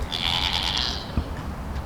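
A baby goat on a small farm gives one drawn-out, fairly loud bleat lasting most of a second, followed by quieter background noise and a faint knock.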